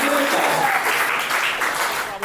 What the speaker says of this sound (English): A round of applause for the smelling situation.